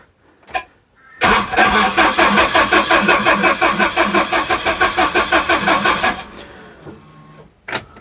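A Volvo 740 that has sat unused for a while, with its throttle pedal removed, cranks for about five seconds in a rapid rhythmic churn without catching, close and loud, then falls quiet.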